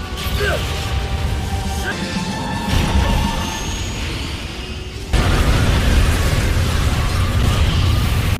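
A loud explosion erupts in an Ultraman Saga film scene, with crashing, rumbling debris and a second heavier blast surge midway, under a voice narrating.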